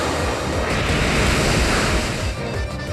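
A Waterfall attack in the Pokémon Omega Ruby battle game surges as a loud, continuous watery rush, swelling slightly in the middle before easing toward the end, with no voices over it.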